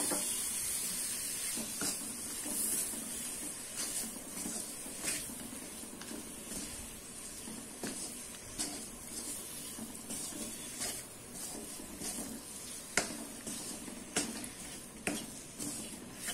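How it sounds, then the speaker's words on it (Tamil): About 300 grams of chicken sautés in a pan for a Salem-style roadside chicken salna, a close, steady sizzle broken by repeated clinks and scrapes of a spoon stirring against the pan. "கொஞ்ச நேரம் வதங்கட்டும் சிக்கனை"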